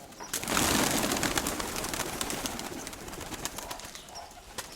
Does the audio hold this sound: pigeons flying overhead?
yes